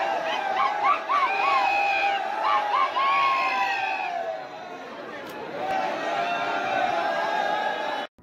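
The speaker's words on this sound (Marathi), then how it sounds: "सोमवती अमावस्या असल्यामुळे मंदिरामध्ये भाविकांची तुफान गर्दी होती" A large crowd of devotees packs a Kuber temple on Somvati Amavasya, steady loud murmur with raised voices and chant-like shouts rising and falling, briefly thinning near the end.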